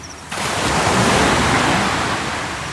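A wave surges in after a brief quiet moment, becoming a loud, sustained rush of surf that slowly eases off.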